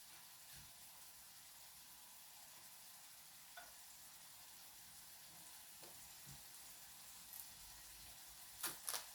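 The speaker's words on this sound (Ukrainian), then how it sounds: "м'ясо кварчить" Meat frying in a pan gives a steady, quiet sizzle throughout, with a few faint clicks and clatters and a couple of louder scrapes near the end; no voices.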